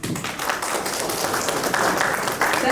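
Audience applause at a meet and greet with Bhoomi Trivedi, a steady dense wash of many hands clapping that fills the whole moment, with some crowd noise mixed in.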